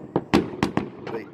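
Fireworks burst close by on New Year's Eve in Russia, five sharp pops in quick uneven succession with faint voices between them.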